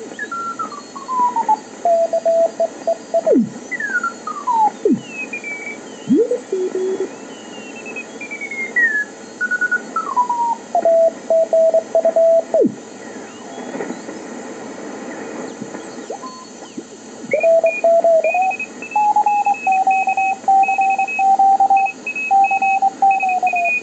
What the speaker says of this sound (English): Now here you hear two stations coming in.